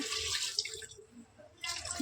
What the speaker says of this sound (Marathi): कढईतलं पाणी आपण कुकरमध्ये टाकू